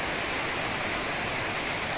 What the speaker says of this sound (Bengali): হঠাৎই বৃষ্টি, প্রচুর বৃষ্টি হচ্ছে।